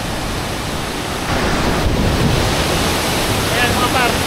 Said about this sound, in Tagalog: so ang lakas ng agos